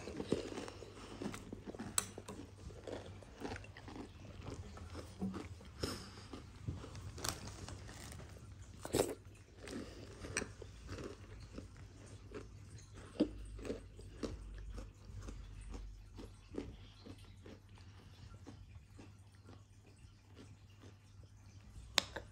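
Small crunchy crackers from a gas station being eaten in a taste test, with quiet, irregular crisp bites and chewing crunches close by and no talking.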